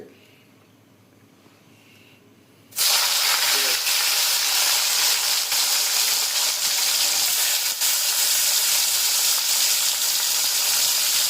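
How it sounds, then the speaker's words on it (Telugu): Dried fish frying in hot oil in a pan for a brinjal curry, silence broken by a sudden loud burst of sizzling that then holds as a steady, intense hiss. "ఇప్పుడు ఈ ఆయిల్లో మనం ఈ డ్రై ఫిష్ని బాగా డ్రై చేసుకుంటున్నాం"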